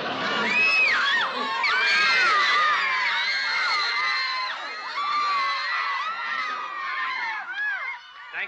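A sitcom audience of fans screams and cheers at a teen pop singer, heard as a loud, continuous wall of high-pitched shrieks and whoops that swells and dips over several seconds.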